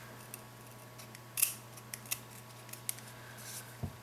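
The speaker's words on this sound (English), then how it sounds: "I'm going to see if I can cut these tabs off with just some scissors" Scissors make a few sharp, quiet snips while cutting tabs off a canvas piece, spaced irregularly against a faint background hum, with no talking.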